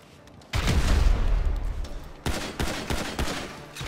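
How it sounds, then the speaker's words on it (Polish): Gunfire and explosions in GTA Online: a heavy boom and sustained roar, then a string of sharp close shots and blasts in quick succession. "tam jakieś eksplozje się dzieją"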